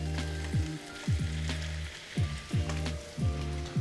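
Shrimp sizzling in a dry pan with mushrooms and pancetta, a steady close frying crackle broken by a regular series of short scraping or clinking stirs.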